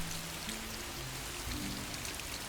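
Steady rain patters across the whole stretch on a dark night in the Soulitaire game demo, a dense, even hiss with low tonal hums beneath, nothing else rising above it.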